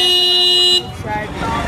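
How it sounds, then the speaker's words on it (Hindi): Busy street traffic with car horns, a long sustained horn blast up close that cuts off, then the rumble and clatter of passing vehicles as someone speaks over the noise. "भाई यार इतना ट्रैफिक है यहाँ पे"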